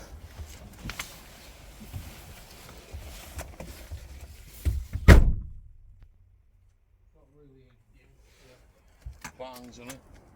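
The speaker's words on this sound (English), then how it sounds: "Bangs on it." Someone bangs on the door of an Audi A6 C6 TDI with a crank-no-start fault. One loud, close thump comes amid handling noise, then near silence, and a voice speaks faintly at the end.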